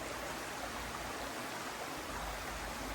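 A creek flows steadily outdoors in summer heat, a constant broadband rush of running water filling the whole stretch with no voices.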